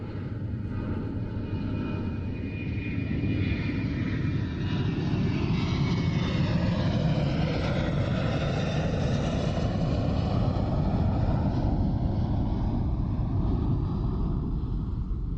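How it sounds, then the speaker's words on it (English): A Grumman A-6 Intruder, an American all-weather attack plane, taking off from a carrier bow: a loud, steady broadband engine roar with a slowly sweeping whine, heard alone throughout. "a seasoned pilot takes off in his Grumman A-6 Intruder, an American all-weather attack plane."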